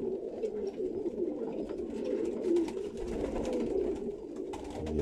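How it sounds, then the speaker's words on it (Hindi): A pigeon coos steadily and close by in a continuous, soft, throaty warble with no speech. "ये देखें पूरे बैलेंस का कबूतर है।"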